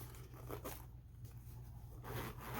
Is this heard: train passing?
no